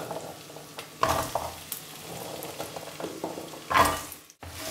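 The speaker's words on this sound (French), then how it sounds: "On mélange correctement pour que les carottes soient bien imprégnées du curry." Carrots stirred with curry powder in a pot for carrot curry soup: soft sizzling under scraping and clattering stirring strokes, with two louder scrapes standing out.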